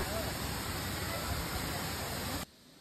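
Roaring Shahasradhara 2 waterfall reached by boat across a lake and a muddy path, a dense, steady broadband rush that stays loud and continuous before cutting off abruptly near the end.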